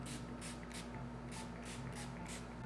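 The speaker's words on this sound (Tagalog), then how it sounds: "usually I'll use setting spray" Dazzle Me Get a Grip Matte Fix makeup setting spray misted in about eight short, quick hissing pumps, close up and fairly evenly spaced, over a faint background hum.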